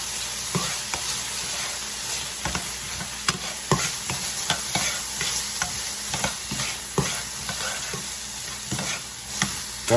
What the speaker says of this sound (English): a tablespoon of tomato paste. And then we're going to mix it